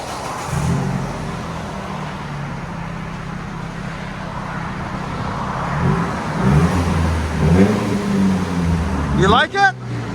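A 2004 Nissan Frontier 2.4L with a Flowmaster Delta 40 Series exhaust idles with a deep, steady rumble, then revs in a few rising, throaty bursts near the end while people talk nearby.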